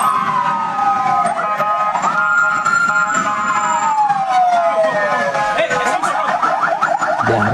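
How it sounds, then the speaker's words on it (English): A convoy of emergency vehicles arriving at a party secretariat, several sirens wailing and sweeping up and down at once, loud and continuous throughout with overlapping tones. "They are using siren."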